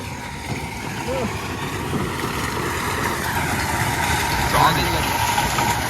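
Airport luggage vehicle at Mangalore International Airport, a steady mid-pitched engine idle droning in the background while people talk over it.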